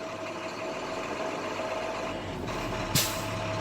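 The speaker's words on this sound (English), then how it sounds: "There goes my governor cutoff valve." A truck's air brake governor cutoff valve releases a sudden loud hiss of air over the steady drone of an idling engine, a single burst near the end.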